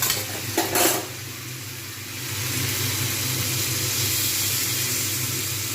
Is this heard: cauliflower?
yes